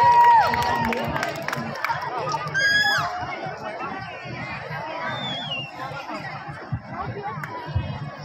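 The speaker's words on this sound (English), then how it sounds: "Let's all give a big round of applause to Cirilo Flores" Crowd at a Sinulog singing competition grand-champion event in a Cebu City mall, cheering and chattering with scattered shouts and whistles, loud at first then settling into a lively murmur.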